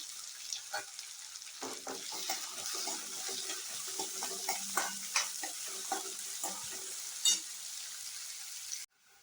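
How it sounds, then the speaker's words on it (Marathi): Onion and chili sizzle and fry in hot oil while being stirred, a steady hiss with scraping stir strokes throughout, close and fairly loud, for a Maharashtrian bhindi bhaji (okra stir-fry). "आणि मग त्याच्यात हा कांदा आणि मिरची सगळी तेलात चांगली परतून घ्यायची आहे."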